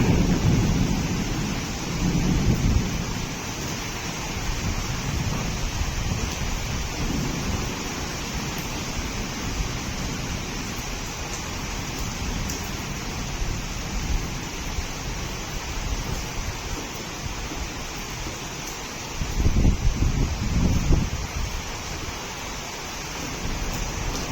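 A Kalbaisakhi nor'wester thunderstorm lashes Bhubaneswar, with steady roaring wind and heavy rain and low rumbles of thunder that swell near the start and again toward the end. The storm sounds close and continuous, with no voices.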